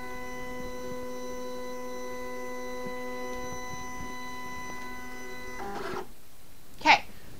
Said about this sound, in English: your blade housing will reset to the proper location